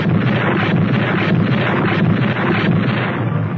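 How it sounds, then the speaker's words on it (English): Heavy guns of the battleship USS New Jersey firing during the 1944 Pacific campaign, heard as loud, continuous booming and rumbling blasts that are close, dense and wind-buffeted, with no clear gaps between shots. "Her great guns created devastation ashore."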